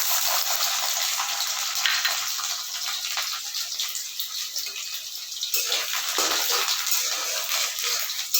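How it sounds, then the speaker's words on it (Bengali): Garlic frying in hot oil gives a steady, close hiss and sizzle with broadband crackle. The sound brightens after a brief dip partway through, and nobody speaks. "তেলটা গরম হয়ে গেছে, এবার আমি রসুনগুলো সব দিয়ে দিচ্ছি।"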